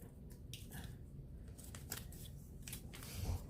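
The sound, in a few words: curved scissors cutting a round shape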